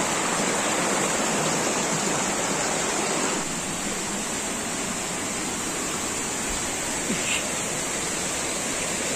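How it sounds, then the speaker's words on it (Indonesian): Langkui Tarak Pipia waterfall in West Sumatra rushes in a dense, unbroken roar, loud and close, with no voices, holding steady throughout with only a slight drop partway through. "di dekat sini ada satu air terjun Langkui Tarak Pipia"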